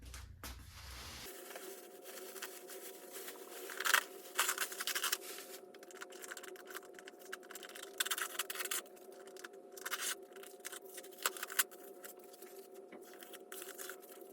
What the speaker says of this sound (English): Now we're gonna be taking the tape off.